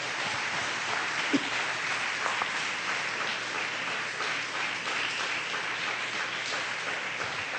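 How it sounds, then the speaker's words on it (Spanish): A church congregation applauds during a sermon, giving a steady, dense wash of clapping that holds at an even level for the whole stretch, heard from a moderate distance. "Denle un aplauso a Dios en este día, por favor."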